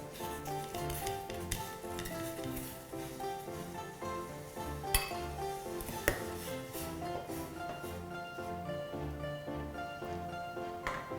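Blanched shrimp are scooped from a pot into a bowl in a kitchen, with repeated clinks and scrapes of utensil against metal and dishes, two sharper knocks standing out.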